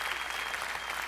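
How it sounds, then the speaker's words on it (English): Brief, fairly quiet burst of crowd applause greeting children as they walk up at a Christmas event, an even wash of clapping with no talking. "Give them a round of applause as they make their way up."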